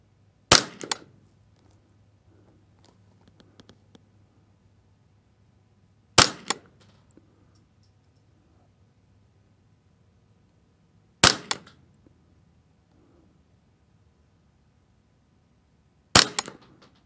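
A Ruger 10/22 .22 rifle on a shooting range fires sharp, loud single shots spaced about five seconds apart. Each crack is followed by a faint ring in an otherwise quiet setting.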